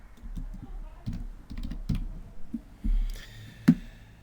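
Someone types a name on a computer keyboard with a quick run of light, close key taps that stop after a few seconds, with speech nearby.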